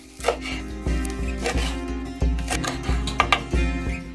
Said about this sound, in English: and now I'm going to chop it.